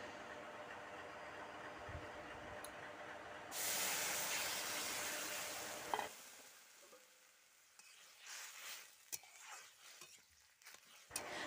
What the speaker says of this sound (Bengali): দিয়ে এবারে আমি ঝোলটা এর মধ্যে ঢেলে দেবো